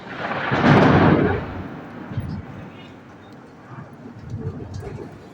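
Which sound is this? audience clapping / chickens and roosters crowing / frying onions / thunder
thunder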